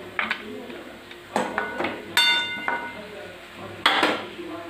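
Marathi murmura sushila, a puffed-rice snack, being served onto a dish, giving several sharp clinks and scrapes of a spoon against plates and a pan spread across the moment, fairly close, with brief quiet gaps between.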